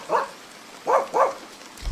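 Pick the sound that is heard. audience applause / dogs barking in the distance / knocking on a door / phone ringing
dogs barking in the distance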